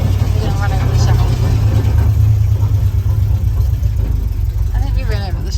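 A Ford Bronco's engine rumbles steadily and close as it drives without throttle control, a constant low drone with voices talking over it.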